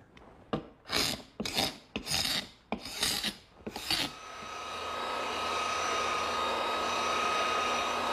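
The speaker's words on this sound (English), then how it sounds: "the first thing I'm going to do is scrape off any excess glue" Several short rasping strokes as excess glue is scraped off a dried wooden table top, each stroke distinct and close, followed by a steady whirring machine hum that continues alone to the end.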